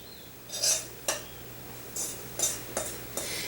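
A spoon spreads crumble topping over a dessert in a crock pot, making a series of close scraping and clinking strokes, about six in total, over a faint steady hum.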